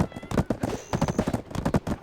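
Horse hooves clop in a quick, rhythmic gallop in the online game Black Desert Online, loud and close, with a faint whinny tone and a voice briefly underneath.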